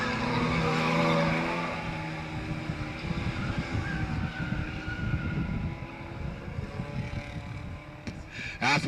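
A race car in a 4-cylinder crash-and-burn division spins out on a dirt track during a heat race, with a loud sustained engine roar, sliding tire noise and crowd ambience, fading briefly before a sharp clatter near the end.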